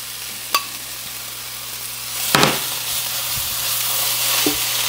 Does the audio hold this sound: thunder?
no